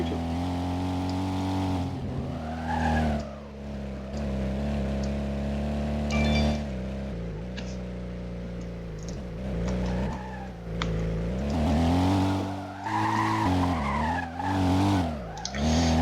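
A Toyota Supra engine revs and whines through continuous drifting in Roblox, with tires squealing as the pitch rises and falls, loud and close, no voices.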